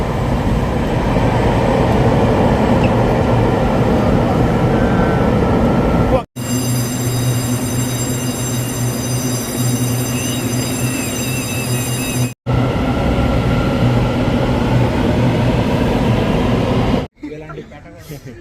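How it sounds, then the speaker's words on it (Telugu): A train in Taichung, Taiwan rumbles loudly and continuously nearby, with a high whine at one point, and a few abrupt cuts between segments. "సో మనం ట్రావెల్ చేయబోయే ట్రైన్ ఇదే అనమాట."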